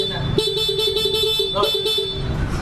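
An aftermarket PIAA horn paired with the stock horn on a Honda Click V3 scooter blares in a series of close, loud, brassy toots, several short honks in quick rhythm, followed by a longer blast.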